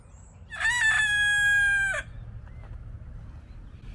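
A pet rooster named Sam in a garden gives one loud, close cock-a-doodle-doo lasting over a second, followed by quiet outdoor background.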